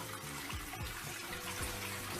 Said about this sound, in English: The brown water coming out of this sink is polluted and dangerous.